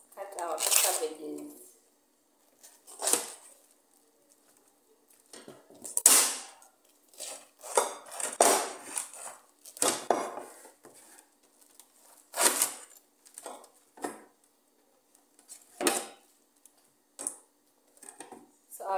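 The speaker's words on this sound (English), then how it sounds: "let's cut our cabbages." Cabbage is sliced on a board for a cabbage and boiled goat stew, giving sharp, crisp knife chops in uneven bursts with quiet pauses between them, up close and fairly soft.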